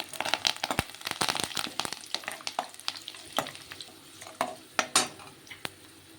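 Peeled garlic cloves and curry leaves hit hot oil for a ridge gourd and milk curry, crackling and spitting loudly up close while a utensil clatters and scrapes against the pan in quick bursts.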